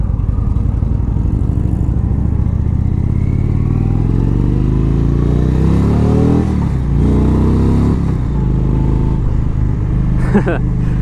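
A 2017 Indian Springfield bagger motorcycle with a 111 cubic inch V-twin pulls away and accelerates, its loud, steady engine rumble climbing through repeated rising sweeps, with brief dips between gears and wind buffeting throughout.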